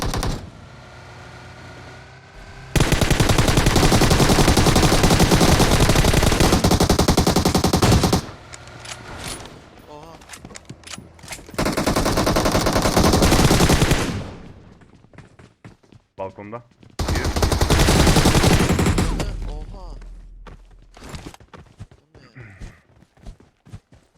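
Automatic weapon fire in the battle royale game PUBG Mobile comes in three long, loud sustained bursts, separated by quieter stretches with scattered single shots and footsteps, while players talk over the action.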